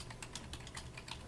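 Typing on a computer keyboard: a quick, steady run of light key clicks, close and fairly quiet, with no voices.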